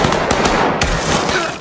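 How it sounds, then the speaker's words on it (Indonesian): Rapid, loud gunfire from a Squid Game Season 2 scene, with dense overlapping shots cracking in fast bursts and no pause. "mereka langsung disambut dengan tembakan yang berasal dari minion yang berusaha menghentikan mereka."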